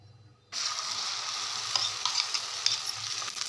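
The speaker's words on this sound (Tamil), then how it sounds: "முட்டையை ஆம்லெட் மாதிரி ஊற்றிடலாம்" Beaten egg is poured like an omelette into a pan of oil over low heat and breaks into a continuous bright sizzle. The sizzle stays steady and close, with small crackles and scrapes and no talking.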